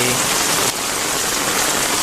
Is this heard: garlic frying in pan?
no